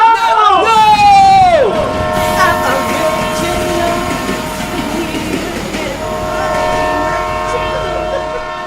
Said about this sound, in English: Matt, look out for the train!